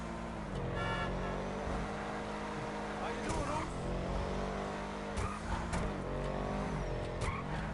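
Video game car driving fast, with a continuous engine drone, rising revs and repeated tire squeals and skids, punctuated by a few sharp impacts.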